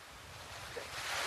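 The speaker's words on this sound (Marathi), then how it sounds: "वरतून पाणी पडतंय आणि हे सगळं पाणी इथून खाली जात आहे." A hidden waterfall on a jungle trek, a steady rushing roar of falling water that swells slightly louder over the short moment.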